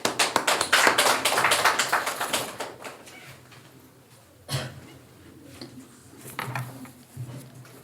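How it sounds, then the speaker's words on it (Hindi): Church congregation applauding to welcome a speaker at a Sunday evening service, a dense burst of many hands clapping for about four seconds that fades out, followed by scattered quieter sounds. "उनका हम तालियों से स्वागत करते हैं।"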